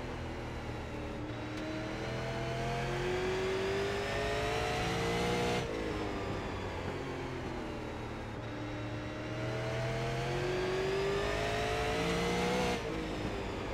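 Super Late Model race car engine in iRacing at Lanier, held at a steady drone with pitch rising and falling through short straights and corners, loud and continuous with no voices.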